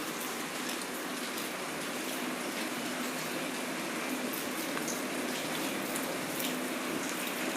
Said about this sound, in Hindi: अभी बारिश शुरू हो गई है और बारिश ज़ोरदार नहीं है, लेकिन थोड़ा थोड़ा बारिश हो ही रही है।